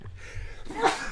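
A single sharp sneeze bursts out close to the microphone indoors, after a brief moment of quiet background sound.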